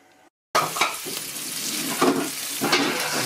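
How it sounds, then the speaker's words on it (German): Regional onions fry in rapeseed oil in a pan with a steady, lively sizzle, close and loud, with a few louder surges as the pan is stirred. "die regionalen Zwiebeln brutzeln bereits ganz munter in der Pfanne"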